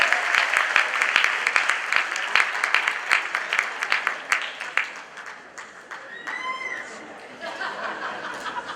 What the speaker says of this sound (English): Give Henry a big round of applause.